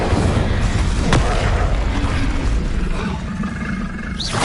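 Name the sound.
Incendio fire spell cast, video game Hogwarts Legacy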